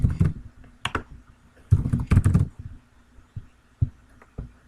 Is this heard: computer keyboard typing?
yes